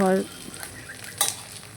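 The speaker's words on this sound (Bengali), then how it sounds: "এই দেখো এটা আমি হচ্ছে পেঁয়াজ লঙ্কা দিয়ে একটুখানি ভাজা করে নিচ্ছি" Pieces of katla fish fry in a pan with onion and chili, giving a brief burst of sizzling with a short stirring scrape partway through, close and fairly quiet.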